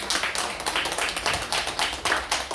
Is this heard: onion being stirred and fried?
no